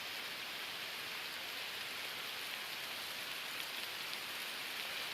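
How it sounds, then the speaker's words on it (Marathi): Dense, steady hiss of heavy rain pouring down continuously, fairly faint and with no voices. "पाऊस येलो मोठो"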